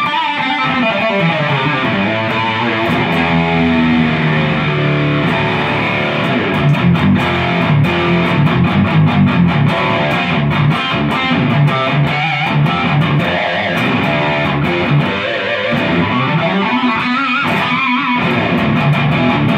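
A 1984 Fender Flame electric guitar is played through a lightly distorted tone in sustained chords and picked notes. The playing is loud, steady and close, with no speech.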